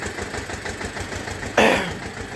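A farm tractor's engine runs steadily at a medium idle-like pitch, then revs louder for a moment as it drives out of a wheat field, the burst fading back down; no talk over it.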